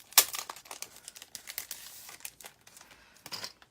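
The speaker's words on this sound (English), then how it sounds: "I'm going to pull out some more of these enamel stickers" Crinkly plastic packaging rustles and tears as enamel craft stickers are pulled out, a string of close, soft crackles and short rips in a quiet room.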